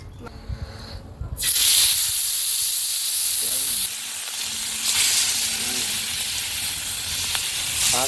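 Fish pieces drop into hot oil in a village kitchen and set off a sudden loud sizzle that keeps hissing steadily and swells again as more pieces go in, while people talk quietly.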